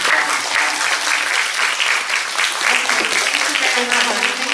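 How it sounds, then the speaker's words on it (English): Audience at an academic conference on digital twins and the Metaverse applauds a speaker, a loud, dense, sustained wash of clapping that holds steady throughout with faint voices mixed in. "I want to ask our audience to give Dr. Ghose a big applause."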